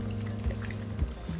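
Clear water poured into a container of dirty water, giving a continuous splashing, gushing pour with a low steady hum underneath.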